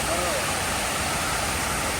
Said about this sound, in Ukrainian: Тільки вода тече.